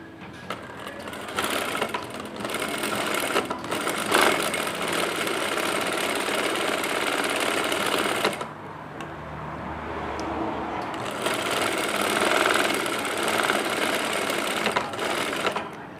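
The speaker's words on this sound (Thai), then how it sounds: "จากนั้นเราก็จะมาเย็บรูดนะคะเย็บรูดชิ้นหน้ากัน" A sewing machine runs in steady bursts while stitching gathers along the front panel of a blouse, the gathering done by pressing on the presser foot by hand. The motor hums loud and close with a brief slower stretch midway and no talk.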